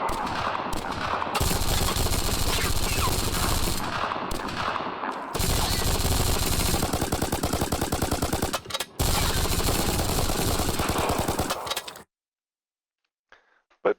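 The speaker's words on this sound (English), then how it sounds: "He's really well suppressed by the shotgun." Shotgun fire from a Godot video game crackles in dense, rapid bursts of gunfire with brief gaps, sounding like sustained volleys, then cuts to near silence with a faint tick or two at the end.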